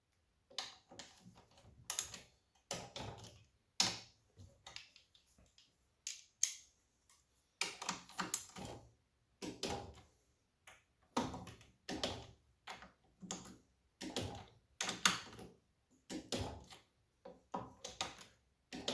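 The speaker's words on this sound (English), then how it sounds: "there's actually a little click in a torque wrench" Torque wrench clicking on the head bolts of a Tecumseh snowblower engine during a head gasket job, a long series of faint, sharp clicks and small clunks repeating at irregular intervals with no talk.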